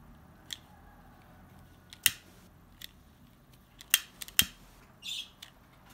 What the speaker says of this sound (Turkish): Biraz daha kesmem gerekiyor.